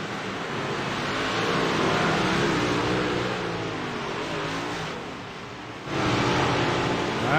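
Big block modified race cars roaring around the dirt oval at Eldora, a continuous loud engine drone with rising and falling revs as the pack passes, one car's pitch dipping before another surges in near the end.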